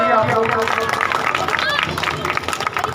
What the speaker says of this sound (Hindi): एक बहुत सुंदर ताली बजाइए सभी बेटियों के लिए आप लोग